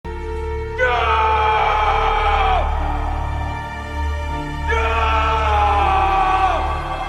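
An actor screams in The Last Samurai as a man in hard withdrawal, giving two long, loud, anguished bellows, each held for about two seconds before trailing off, with a brief gap between them.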